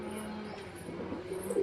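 Pigeons kept by a fancier coo softly nearby in a low, murmuring call that swells slightly toward the end.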